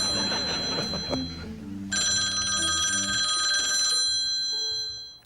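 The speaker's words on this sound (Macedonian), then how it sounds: "Телефонско јавување, да," A telephone rings loudly during a call-in studio show, an electronic bell tone in repeated bursts over faint background murmur, then fades out.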